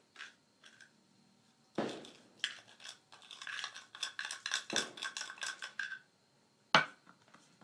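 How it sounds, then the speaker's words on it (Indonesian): A spoon scrapes and clinks inside a glass, stirring a colloid mixture of a dissolved substance in water. The bursts are quick and rhythmic, with a bright ringing clink near the end, in a quiet room. "saya aduk"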